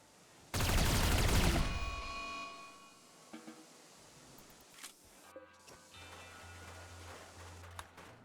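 Colonists firing during a raid in the colony game Rimworld: a dense, loud burst of rapid shots lasting about a second, followed by scattered faint pops and low background hum.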